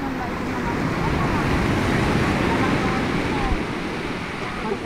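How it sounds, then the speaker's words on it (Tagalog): Loud, continuous roar of strong sea surf and wind, a dense rushing wash of water with no distinct breaks, heard close by on the shore. "So medyo malakas yung alon ngayon"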